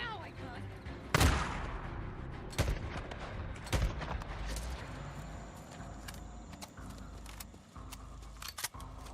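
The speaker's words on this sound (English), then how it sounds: "Where are you shooting me from?" Sharp, loud gunshots from the open-world video game Days Gone, a few separate cracks spaced apart with quieter clicks and rattles between them, while a voice talks over them.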